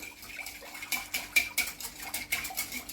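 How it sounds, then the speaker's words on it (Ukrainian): A spoon clinks and scrapes repeatedly against a bowl, stirring salt and sugar into liquid bread batter, in a quick, uneven rhythm, close by, with no voices. "перемішую, щоб розійшло"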